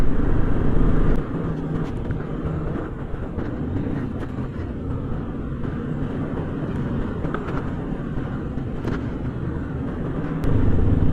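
A motorcycle rides a rough mountain road near Jalori Pass, its engine a loud, close, continuous rumble with rattles and knocks from the bumpy track, swelling at the start and end.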